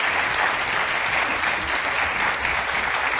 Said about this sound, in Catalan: Aplaudiment, no, professor?